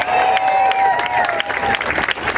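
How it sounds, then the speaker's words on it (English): An outdoor protest crowd claps loudly and close, with a few cheers and whistles rising above the steady applause for a couple of seconds. "Give a big round of applause for that group."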